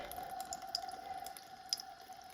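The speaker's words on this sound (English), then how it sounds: "So warm water right into your denture bath." Warm water runs from a tap into a plastic denture bath, a steady trickling stream with scattered drips and splashes, close and moderately quiet.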